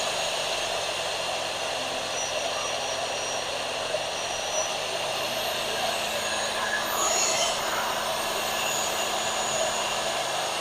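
An electric machine runs with a steady, airy whir and hum, its pitch shifting slightly partway through as the voltage is adjusted, with no speech.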